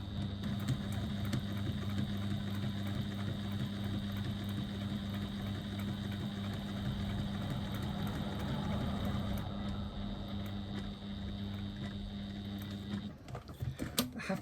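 A sewing machine stitching steadily from a dropped needle at a corner, a continuous close mechanical whir with a steady hum that runs unbroken for most of the stretch before stopping abruptly near the end.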